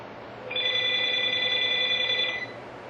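A home telephone gives its special ring, a loud steady electronic trill held for about two seconds, alone in a quiet room.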